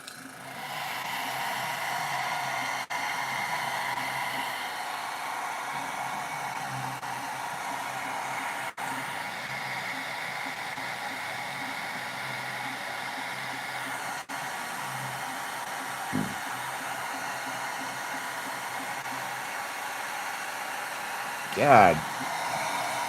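Hair dryer blowing on fresh paint on a skateboard deck, a steady quiet whooshing hiss running the whole time, broken by a couple of brief knocks near the end.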